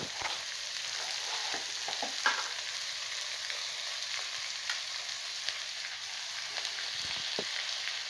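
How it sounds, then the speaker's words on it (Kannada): Ingredients mashed and frying in oil in a pan for a greens saaru, a steady close sizzle running throughout with occasional stirring scrapes and small crackles. "ಸ್ಮ್ಯಾಶ್ ಮಾಡಿಕೊಂಡು ಚೆನ್ನಾಗಿ ಹಸಿದು ಸ್ಮೆಲ್ಲೆಲ್ಲ ಹೋಗೋವರೆಗೂ ಫ್ರೈ ಮಾಡ್ಕೊತೀನಿ ಎಣ್ಣೆಲಿ"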